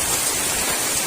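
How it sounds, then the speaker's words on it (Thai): Steady rain falling through the night outside a rural home, a dense, even hiss with no breaks, close and continuous. "เสียงฝนตก"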